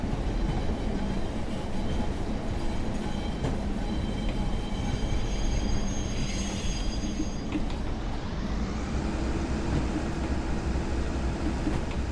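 Continuous rumble and rattle of a Class 142 Pacer train rolling slowly at about 10 miles an hour between Lancaster and Morecambe, with a faint rising whine partway through and no voices.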